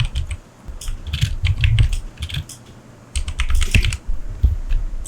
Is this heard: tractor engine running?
no